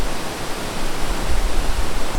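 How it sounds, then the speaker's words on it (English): Large waterfall at Shila in the Padum area: a dense, steady roar of falling water, loud and close, continuous with a slight swell, with no voices. "Oh my god, this waterfall is huge."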